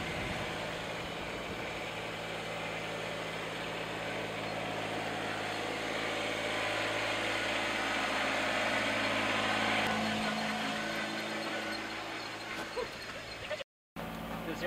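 A tractor engine runs at a steady, fairly even drone while a barn cupola is hoisted, with a faint outdoor background; the sound cuts out for a moment near the end.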